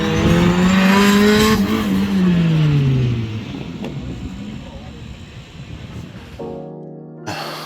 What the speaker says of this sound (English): Listen again and you'll hear the whine.